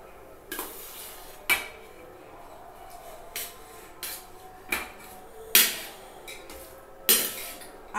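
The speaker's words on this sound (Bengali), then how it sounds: "এবার আমি বাকি ভাতটা এটার সাথে মিশিয়ে দিচ্ছি" Biryani rice being mixed into chicken and layers in a pot, with a spoon striking and scraping the metal pot in about seven sharp, irregular clanks over quiet background.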